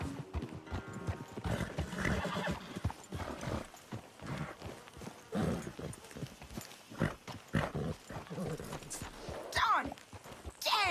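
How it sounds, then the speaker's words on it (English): Horse hooves clip-clopping with a whinny from a mount in the video game Red Dead Redemption 2, layered under continuous speech and game sounds, with a busy, rhythmic mix throughout. "Damn horse acting up on me."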